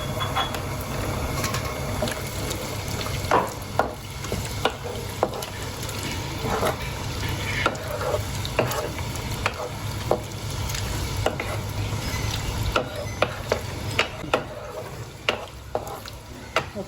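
Squid balado with turmeric and curry leaves being stirred in a pan, a steady sizzle under repeated scraping spoon strokes, close and moderately loud with no talk.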